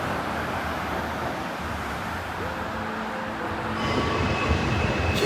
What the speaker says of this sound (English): I think it's a funicular railway, in fact it clearly is.